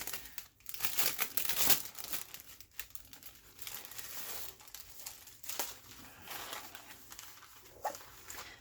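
Stamperia rice paper being handled for a journal craft project gives close, soft crinkling and rustling with a few sharper crackles, continuing irregularly throughout at low volume without speech.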